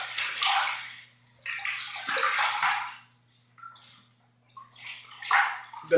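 Hot water splashes and trickles into a shaving soap bowl in several short, soft pours with gentle dripping between them, close and fairly quiet.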